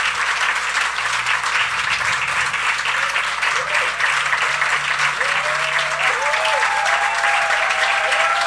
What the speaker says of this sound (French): j'aimerais qu'on lui donne une bonne main d'applaudissements